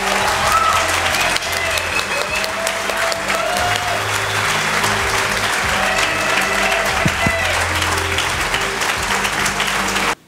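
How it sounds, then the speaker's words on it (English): An audience at a Belhaven University nursing pinning ceremony applauds the newly pinned students: loud, continuous clapping from a large crowd for about ten seconds, with a few voices and cheers woven through it before it stops abruptly. "We can now have a round of applause for our pinned students."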